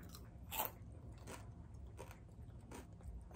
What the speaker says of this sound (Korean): 이게 라이스페이퍼가 에어프라이기랑 만나면 진짜 바삭하구나.